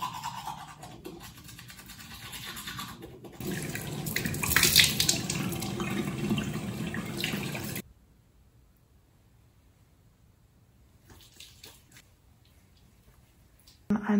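Running water from a tap while washing up in the morning, a steady close hiss with some scrubbing and splashing for several seconds, then abruptly cut off, leaving near silence with faint handling noises and a brief knock at the end.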